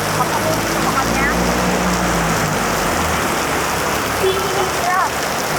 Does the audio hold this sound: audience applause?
no